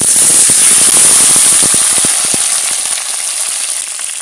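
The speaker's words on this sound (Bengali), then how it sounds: "বন্ধুরা, প্রথমে আমি আলু ভেজে নেব।" Sliced potatoes dropped into hot oil in a heated wok, with a loud, bright sizzle and crackling spatter right at the start that slowly eases, heard up close with no talking.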